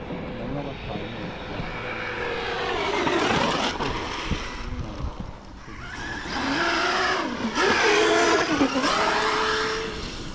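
An Arrma Dirt Rat RC car fitted with a Sledge electric motor revs hard, its high whine sweeping up and down in two loud, sustained surges with a short dip between them.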